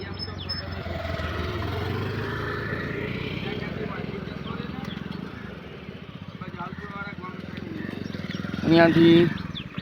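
A motorbike travels along a rural road, its engine putting out a rapid pulsing drone that swells as it goes by, with a person talking over it much of the time.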